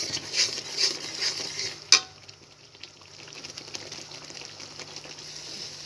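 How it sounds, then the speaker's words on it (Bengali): Ready-made biryani masala stirred into chicken for biryani, a steady close scraping sizzle with a sharper clatter near two seconds, then a softer continuous fry. "এটাকে দিয়ে আমি নাড়াচাড়া করে কষিয়ে নিচ্ছি।"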